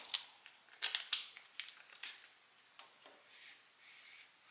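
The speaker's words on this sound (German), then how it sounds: "Ziehen auch hier die Folie wieder ab." Protective film is peeled off an aluminium calibration disc for a paint thickness gauge, giving a few soft, close crackling rips and small ticks, fading into faint rustles, with no talking.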